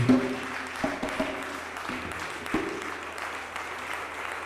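Applause from a live concert audience after a musician returns to the stage, an even wash of many hands clapping at moderate loudness with a few sharper claps near the start.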